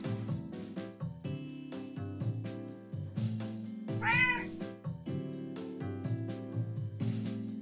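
Cats meowing in the video game A Building Full of Cats: soft, repeated meows over a bouncy game music loop, with one clearer meow standing out in the middle.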